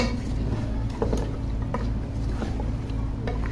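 Mutton frying with ginger garlic paste makes a soft, continuous low sizzle with small stirring clicks and scrapes, close but fairly quiet, with no voice over it.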